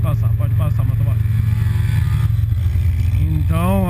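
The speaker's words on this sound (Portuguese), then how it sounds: "Vou deixar o motoboy passar, pode passar, motoboy." A motorcycle courier passes in road traffic, its engine rumbling loud and steady beneath a deep vehicle drone while someone talks close by.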